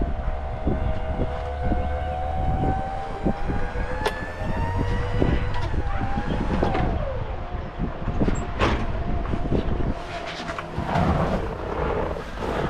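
A 1966 Plymouth Satellite convertible engine cranks briefly, catches and settles into a steady, even idle close by, with no talking.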